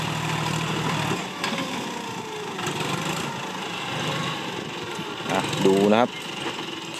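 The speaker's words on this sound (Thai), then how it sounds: "แล้วก็ฟังเสียงการทำงานของรถไถจอนเดียร์ครับ" John Deere 5055E tractor engine running while pushing soil over rocks and stumps, a steady mid-distance rumble under a voice talking, with a rising whine and louder burst near the end.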